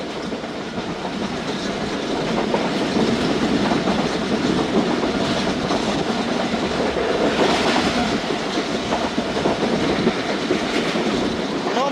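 Riding aboard an express train, the Karachi Express, passing Mian Channu railway station in Pakistan, a steady rumbling roar carries rhythmic wheel clatter over the rails, continuous and close.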